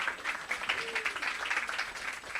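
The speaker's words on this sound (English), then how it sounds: "big round of applause for all of our sponsors" An audience claps steadily at an adult talent competition, a close, continuous patter of many hands at even strength throughout.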